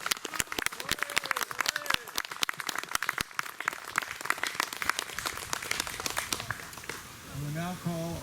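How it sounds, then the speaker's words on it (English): Cheering and clapping from a gathered crowd at an outdoor grave marking ceremony, a burst of dense, sustained applause that carries on for several seconds before tapering off as a voice begins speaking. "How about a rousing cheer for our message squad and our fire"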